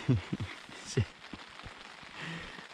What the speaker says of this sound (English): We've got all the water pouring through.